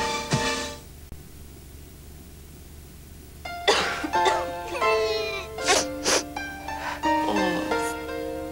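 Person coughing in a cough medicine commercial, a couple of rough coughs and a throaty moan over soft background music, close and fairly loud.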